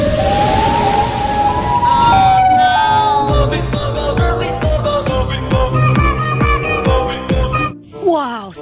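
A Siren Head toy plays a loud wailing siren sound effect with rising and falling tones and electronic beeps, continuous and close.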